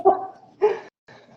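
A dog barks three times in quick succession, loud and close, with short gaps of quiet between the sharp barks.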